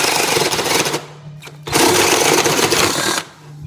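A power drill boring a hole in scrap wood whines loudly and steadily, pauses briefly midway, then bores again with a harsh, grinding buzz before stopping.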